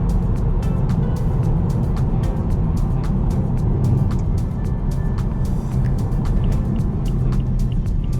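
A BMW 428i pulls hard on the road, its engine droning steadily from inside the cabin under a constant road roar, with a rapid series of faint clicks and ticks over the top.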